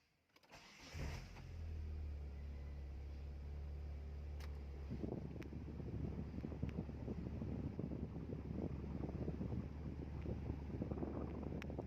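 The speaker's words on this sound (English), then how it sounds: "Start the engine and turn on the AC." A Proton Wira car engine starts about a second in and settles into a steady idle, with the air conditioning and its Denso 10PA15 compressor switched on. A rushing blower noise joins the hum partway through. No one speaks.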